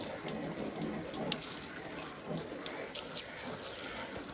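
Water runs steadily from a tap into a sink as something is washed, a continuous close splashing rush with slight surges throughout.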